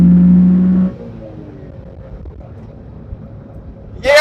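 A 1993 Honda Beat Type C engine, small and short-geared, revs hard up to a loud steady high note, then drops away to a low rumble before rising again at the end.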